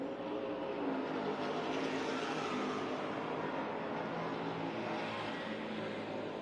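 Race car engine roaring during JEGS/CRA All-Stars Tour qualifying at Nashville Fairgrounds Speedway, a continuous loud drone at speed with no break, heard without talk.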